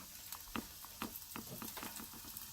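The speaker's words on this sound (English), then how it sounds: "our garlic has gotten where it's frying off a little bit" Garlic frying in a pan gives a faint, close crackle and sizzle, with scattered small pops and stirring scrapes over a soft hiss.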